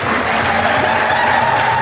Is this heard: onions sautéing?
no